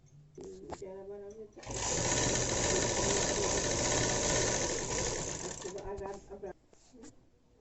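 An electric sewing machine stitches a doubled fabric neck piece for a box-pleated dress, its loud, steady whirring motor running for several seconds, with a person talking before and after the stitching.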